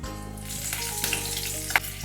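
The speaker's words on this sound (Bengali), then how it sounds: "মেথিটা কিন্তু খুব বেশি ভাজতে হবে না, সামান্য একটু নেড়ে ছেড়ে আমি এখানে দিয়ে দিচ্ছি চেরা কাঁচা লঙ্কা।" Slit green chillies dropped into hot oil with fenugreek seeds for a hilsa fish curry, giving a steady close sizzle with a brief sharp crackle near the end and no voices.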